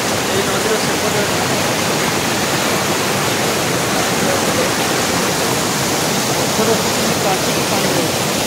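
Steady, loud rush of flowing water fills the whole stretch without pause, a broad roar like a fast river close by.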